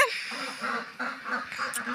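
Crested ducks quacking in a flock, brisk repeated nasal quacks overlapping close by with a steady background chatter of more birds.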